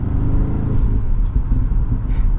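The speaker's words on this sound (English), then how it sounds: "you can hear just a little bit of gurgles and pops on the overrun of the engine" A stock, still-being-run-in 2024 BMW X5 M60i drives with a deep engine and exhaust rumble, faint gurgles and pops on overrun barely poking through the steady drone.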